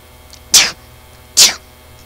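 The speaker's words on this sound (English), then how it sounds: "I gotta sneeze." Two sharp, breathy bursts about a second apart, loud and close, each an explosive sneeze with no talk around them.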